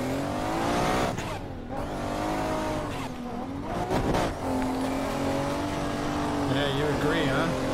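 A drift car in the video game Assetto Corsa revs hard with squealing tires at Irwindale, its engine note rising and falling continuously while someone talks over it.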